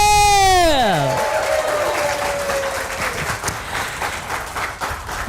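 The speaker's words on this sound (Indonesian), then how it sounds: "tepuk tangan dulu buat komunitas Amazing True" An audience applauding for the Amazing True Health community at an indoor gathering, steady clapping rising after a descending voice-like tone at the start and continuing throughout.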